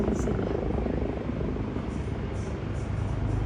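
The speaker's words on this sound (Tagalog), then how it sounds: "Helicopter na naman" Over a hiking area during a rescue of hikers, a helicopter drones in a constant low rumble, moderately loud and steady from start to finish.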